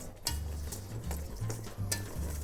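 A whisk beating chocolate and cornstarch hot chocolate mix in a bowl, quick repeated scratchy strokes in a brisk rhythm, close and moderately quiet.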